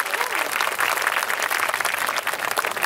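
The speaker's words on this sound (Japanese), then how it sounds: "大きな拍手お願いします。" An audience at a street performance during the Daidogei World Cup in Shizuoka, 2017, claps in steady, dense applause throughout, with faint voices underneath.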